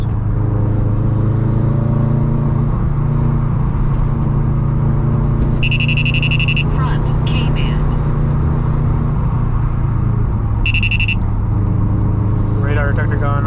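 A 2011 Subaru WRX hatchback engine drones steadily at high load on twisty back roads, with a constant in-cabin rumble and brief electronic beeps from a detector.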